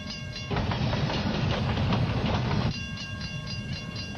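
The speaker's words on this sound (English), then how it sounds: "There's a train coming." A train rumbles by with a loud, steady roar that swells and then eases to a lower clatter; no voices.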